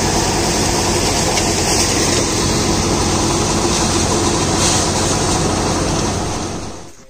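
A Deutz-Fahr tractor engine runs under PTO load with a loud, steady, dense drone, holding constant before fading out at the end.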